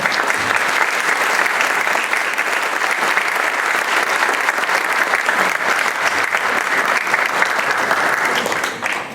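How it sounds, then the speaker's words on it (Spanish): Loud, dense applause from a large audience fills a formal solemn session of the Congress of the Republic marking its bicentennial, welcoming congress members and former members; the clapping stays steady throughout and tapers slightly at the very end. "a quien saludamos con un fuerte y caluroso aplauso"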